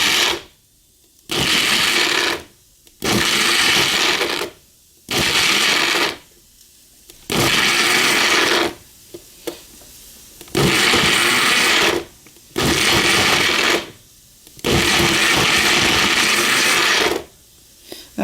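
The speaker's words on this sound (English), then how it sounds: "So I put it on my magic bullet, all of it in there, it's all ready to go." A Magic Bullet blender purees thick apricot paste in about nine loud pulses of a few seconds each, separated by short silences with small clatters between them.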